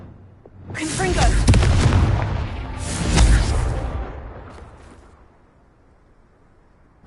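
Confringo blasting spell explosions in a Harry Potter video game: two loud booming blasts a couple of seconds apart, each with a rumbling tail that fades, mixed with game effects.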